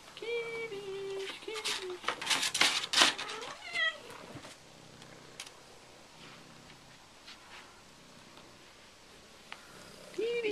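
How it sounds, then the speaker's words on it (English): Several young cats at a cat farm mew repeatedly in high, rising calls, loud and close at first and then fading into quieter rustling, with a person's voice briefly in the background. "Here we are at the kitty farm."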